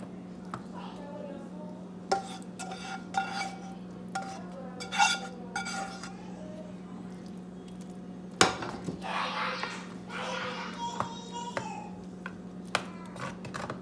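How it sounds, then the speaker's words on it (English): Cheese being spread over a green bean casserole with a utensil, giving soft scraping and occasional clinks of a spoon against the dish, moderately close over a steady low hum. "Now we're gonna put some cheese on the top. Just spread it across."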